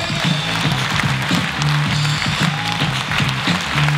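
An audience at a Felix Lobrecht stand-up comedy show claps steadily and densely throughout, a sustained wash of applause with no voices standing out.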